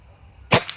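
A Blacan X-2 air rifle fires one sharp, loud shot at a target, followed a moment later by a fainter snap of the impact, with no voices.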